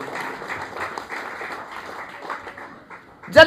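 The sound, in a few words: church congregation applauding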